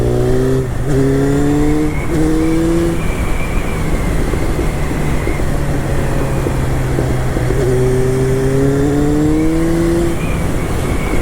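A car engine revs steadily while warming up the tires, its loud sustained drone rising and falling in pitch through several revving swells, close and continuous with no voices.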